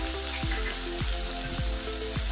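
Spices hit hot oil in a kadhai and sizzle loudly and steadily, a dense frying hiss broken by a few soft stirring knocks, close up with no talking.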